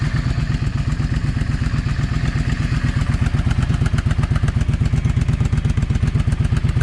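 A Yamaha V Star 650 motorcycle idles steadily after being reassembled, both cylinders firing with a loud, even thumping beat close by, no talk over it.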